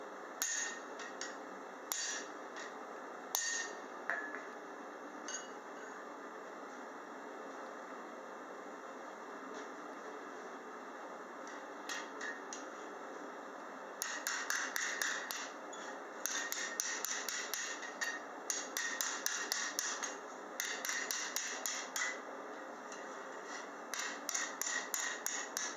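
Blacksmith hammering steel to roll a hinge barrel: sharp ringing hammer blows, a few scattered strikes at first, then rapid rhythmic bursts of blows, heard close over a steady background hum.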